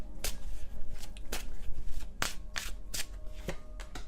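A deck of tarot cards is shuffled by hand up close, producing a quick series of crisp riffling bursts at an irregular rhythm, fairly soft and with no voices.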